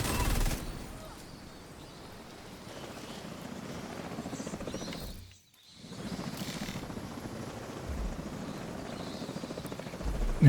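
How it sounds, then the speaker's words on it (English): A hovering enemy drone of the Black Tusk faction in a video game drones on with a steady whirring buzz. It briefly drops out partway through, then returns with sporadic gunfire-like crackles. "I just dislike the noise that that drone makes"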